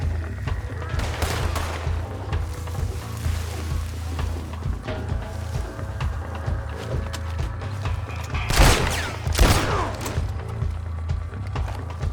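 Gunfire in the western video game Red Dead Redemption crackles under a constant rumbling game soundscape, with a couple of louder shots standing out near the end.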